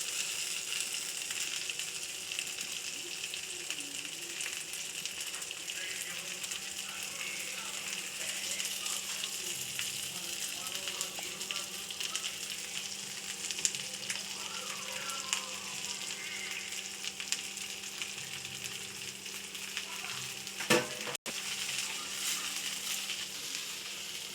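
Okra (lady fingers) fries in a pan with a steady, fairly faint sizzle that runs throughout, with occasional light scraping and clinks as it is stirred.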